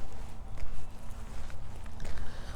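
Footsteps of someone walking outdoors on a morning walk, a steady run of close, uneven steps over outdoor background noise, with no talk.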